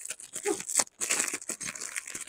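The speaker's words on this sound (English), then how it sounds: "how good am I if I can't even get into a plastic bag, huh?" Thin plastic bag crinkling and rustling in quick, close bursts as someone struggles to open the packaging of a flint fire starter, with a brief pause partway through.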